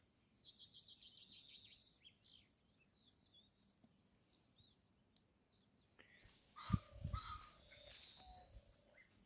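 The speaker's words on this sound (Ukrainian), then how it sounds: "Чуєте, пташки так гарно співають." Birds chirp and sing in the distance over a quiet outdoor background, with a few louder nearby calls toward the end.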